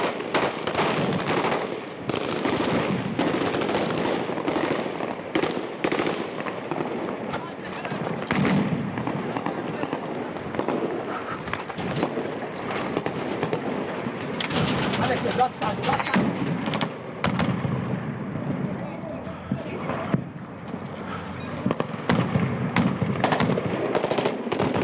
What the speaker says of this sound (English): It's a wide street, a 100-metre run under the jihadist bullets.